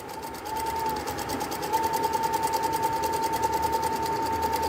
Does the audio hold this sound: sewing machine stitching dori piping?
yes